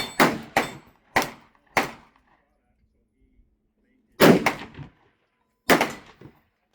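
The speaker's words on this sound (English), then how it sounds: "I'm ready to fire." Sharp, close impacts sound in two groups: a quick series of four, then two more after a pause, each with a brief decay. These are 300 Weatherby rifle shots fired with a quiet cap in an anechoic test setting.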